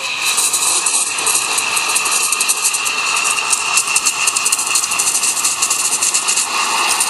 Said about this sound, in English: when you steam the milk,